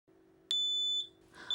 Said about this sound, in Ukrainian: Вони створюють гучний шум, коли в квартирі дим.